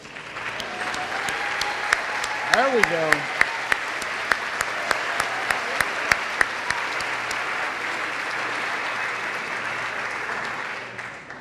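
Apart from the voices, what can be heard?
audience applause for dairy farmers at a pageant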